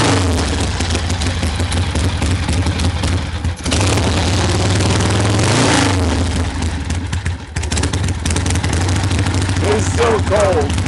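A 1974 Harley-Davidson Sportster runs cold with the enrichener on, its engine thumping loudly and close in a rough, steady idle with a brief rev, while a voice speaks over it.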